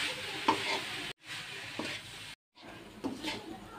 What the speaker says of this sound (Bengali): আমি মিডিয়াম জালে কিন্তু নাড়াচাড়া করতেছি